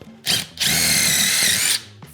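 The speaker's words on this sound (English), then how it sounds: "I will drill a pilot hole in the bottom of this leg" A power drill boring a pilot hole into the bottom of a wooden table leg whirs in a short burst, pauses briefly, then runs again in a longer high-pitched spin before cutting off, close and loud.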